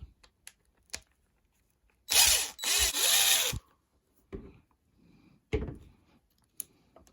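Power tool unscrewing the shock cap screws on a Traxxas 2WD RC car: two close, loud whirring drill bursts in quick succession, with scattered small clicks and handling noises before and after.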